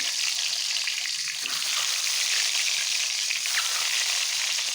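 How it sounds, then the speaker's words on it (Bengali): Eggs fry in hot oil with a steady, bright crackling sizzle that holds evenly throughout, close and alone with no talking. "তেলটা গরম হয়ে গিয়েছে, ডিমগুলো ভেজে নেব।"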